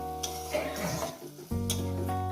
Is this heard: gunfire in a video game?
no